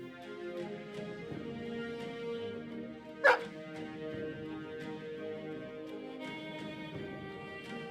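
A dog in Battle Brothers gives a single sharp bark midway through, clear over a quiet, tonal game music background.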